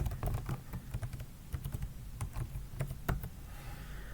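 Keys clatter on a computer keyboard in a run of quick, uneven taps as a username is typed for a ProtonVPN sign-in on Kali Linux, close and clear with no talking.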